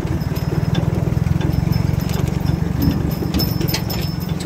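A tractor engine runs steadily and loudly throughout, a rapid low chugging thump with a rattling, shaking body; a lamb or sheep is being taken home on board, with faint movement noises on top.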